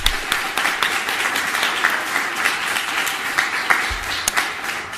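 An audience applauds to welcome photographer Susan Seubert at an art gallery talk, a steady wash of many hands clapping at moderate loudness throughout, with no speech over it.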